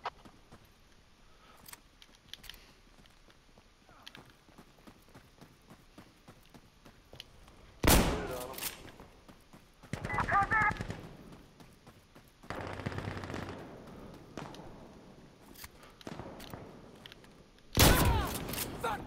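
Gunfire in the tactical shooter Insurgency Sandstorm, with quiet stretches of faint sound broken by several loud, sharp bursts of shots, some close and intense, spaced irregularly.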